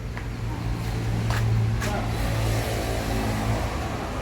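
A Sempati Star Dream Coach sleeper bus pulls into a station, its engine a steady low hum with a rising rumble as it rolls nearer, under a busy, noisy background.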